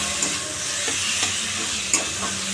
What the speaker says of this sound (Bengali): দেখো আমাদের আলু উচ্ছে ভাজা হয়ে গেল